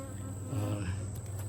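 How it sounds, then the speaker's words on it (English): Honeybees buzzing around an aggressive Layens hive during an inspection, a steady close drone that swells louder midway and holds for a second and a half. "those bees are still buzzing me"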